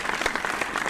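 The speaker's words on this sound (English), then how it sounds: "You guys add booing and clapping." Applause sound effect dropped into a podcast, a burst of dense clapping that carries evenly at full level for about a second with no voices over it.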